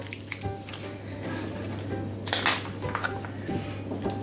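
A spoon works through Olivier salad dressed with mayonnaise in a bowl, giving soft, wet squelching mixed with clinks and scrapes against the dish at close range, over a low steady hum.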